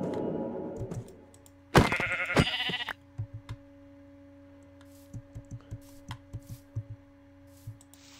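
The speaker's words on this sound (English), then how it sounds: "Oh, you stinking sheep." Sheep bleating in a video game, a loud close bleat followed by a second burst, then a run of soft regular tapping clicks over a faint steady hum.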